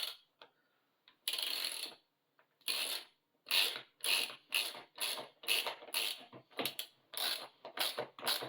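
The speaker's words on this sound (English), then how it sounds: "I will use this ratchet key to try to fit it here." A ratchet key clicks in bursts while fitting a connector into a CNC-machined vacuum clamp, close and crisp, with repeated runs of rapid metallic ticks separated by short pauses.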